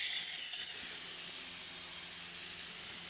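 Water is poured into a pan of frying potatoes, spices and tomato, setting off a loud broad steam hiss that flares at first and then settles to a steady sizzle, close by, with no voices.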